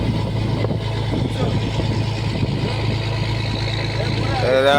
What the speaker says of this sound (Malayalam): ഇതാണ്ട് വള്ളം പണി കഴിഞ്ഞ് വരികയാണ്.